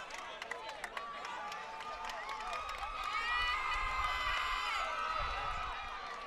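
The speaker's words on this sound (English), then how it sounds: "And all the fans out here is cheering them on" A crowd of fans cheers and shouts at a boys varsity high school baseball game after a home run, a steady broad roar building toward the middle, with a few sharp claps early on.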